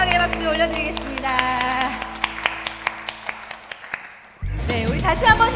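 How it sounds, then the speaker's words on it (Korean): A Korean church congregation at a children's worship service claps in a quick, regular beat along with a praise song, the claps crisp over music and singing before the sound abruptly cuts out. "우리 하나님 앞에 영광의 박수 올려드리겠습니다."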